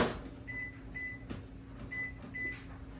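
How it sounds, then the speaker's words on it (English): A microwave oven runs with a steady low hum while heating a bowl of cream of rice and water, with faint repeated high tones and a few light clicks over the drone; no speech. "Microwave that."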